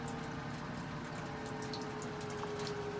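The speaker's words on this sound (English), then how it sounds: "we're going to start seeing bubbles coming through. This is pushing out the soapy water here." Gas bubbling through soapy water in a corny keg set up with a nitrous tank and spunding valve for fermenting kombucha, giving a faint, steady watery burble with a low pump-like hiss and no talking.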